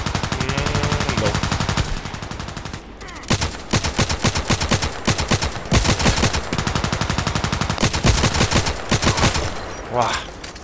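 Rapid bursts of gunfire from a KelTec RFB rifle in the online shooter Contract Wars, loud, dense volleys of close shots fired in quick succession with short pauses between strings, running throughout.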